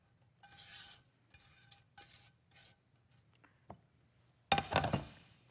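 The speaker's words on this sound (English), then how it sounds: "Stir that together." A chocolate-sugar mixture is stirred into flour in a bowl, giving quiet, intermittent scraping and rustling strokes that end in a louder, brisk burst of mixing, with no talk.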